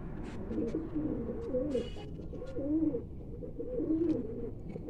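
Pigeons of a breeder pair cooing in a loft, soft rolling coos repeating in several bouts at close range, with faint background shuffling.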